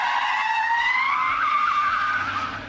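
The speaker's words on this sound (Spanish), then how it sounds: "Uno de los trucos más peliagudos son los giros en J" An armored car's tires squeal loudly and continuously during a J-turn. The screech holds steady and slowly rises in pitch over a low engine rumble, with no talking.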